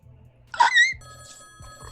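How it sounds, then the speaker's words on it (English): A telephone rings once with a short bright trill, close and clear, then a steady tone rings on against a quiet room with a faint low hum. "The phone rings again."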